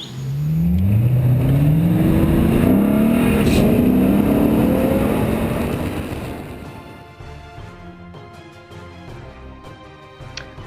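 Ferrari F12 engine revs hard through several rising gear pulls, loud and close, then the sound fades as the car moves off into the distance, with no talk over it.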